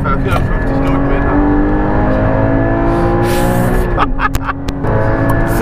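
A Porsche accelerating hard around the Nordschleife, a loud in-cabin engine roar with shifting rev tones, while people talk over it throughout.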